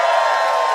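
A live crowd cheers and whoops at a South by Southwest music session at PledgeHouse at Blackheart on Rainy Street, a brief, steady, close wash of excited voices.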